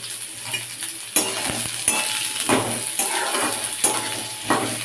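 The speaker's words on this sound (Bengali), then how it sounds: "মাঝারি সাইজের দুটো আলু ছোট ছোট করে কেটে নিয়েছি হালকা করে ভেজে নেব" Small cut potatoes frying lightly in a pan for a mung dal, a steady soft sizzle with occasional stirring and clinks of a spatula against the pan, close and continuous.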